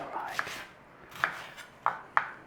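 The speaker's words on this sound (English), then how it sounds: "Onion diced, doesn't have to be big or small." Knife dicing an onion on a cutting board: four sharp, separate chops spaced irregularly over a quiet kitchen background.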